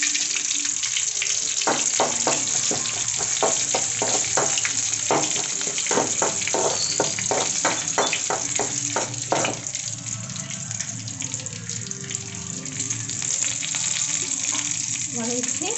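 Garlic cloves and curry leaves sizzle and pop steadily in hot oil in a pan, with a broad constant frying hiss and a burst of sharp crackles and spatters in the first ten seconds that settles into a softer sizzle.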